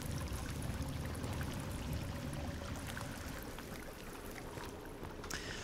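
Water being refilled in Sons Of The Forest, heard as a steady, dense rush of pouring and splashing that continues without pause.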